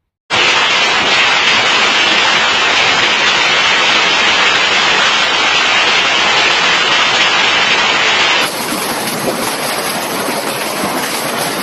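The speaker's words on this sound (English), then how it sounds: "the storm scattered hail and rain across the city" Hail and rain pound down across Shenzhen during a sudden storm, a loud, dense, steady clatter that drops noticeably in level and changes texture partway through, with no voices.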